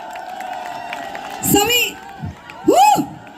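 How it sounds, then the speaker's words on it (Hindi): A crowd at a marathon prize ceremony in Narnaul lets out loud cheers and whoops in two bursts, with shouting voices rising above a background hum and scattered clapping. "मैं चाहूंगी सभी बच्चों के लिए एक बार जबरदस्त तालियां हो जाएं"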